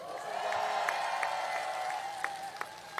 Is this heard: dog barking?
no